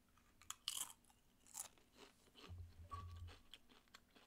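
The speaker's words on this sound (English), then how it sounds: "God damn that crispy crunch." Someone bites into crunchy Doritos chips close to the mic, with a few sharp crunches followed by quieter chewing at a faint level.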